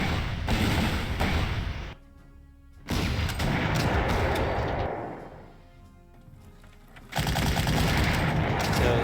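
Gunfire from a tank attack in the Panzer Corps strategy game, dense bursts of machine-gun-like shots and thuds that come in loud stretches, drop away for a moment, then return at full strength.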